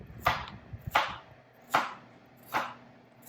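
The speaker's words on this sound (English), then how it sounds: "I'm gonna go ahead and cut up my zucchini" Knife slicing zucchini into quarters on a cutting board: four crisp, evenly spaced chops, close and clear, with no talk.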